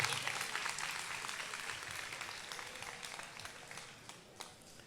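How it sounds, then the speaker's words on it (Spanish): A quiet audience claps for a man's wife during a church gathering, distant and thinning out as it fades over a few seconds, with a few sharper individual claps near the end. "Denle un aplauso a mi esposa."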